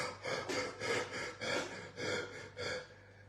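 A voice imitates heavy, rapid panting, six or seven loud breathy gasps in a steady rhythm, close up.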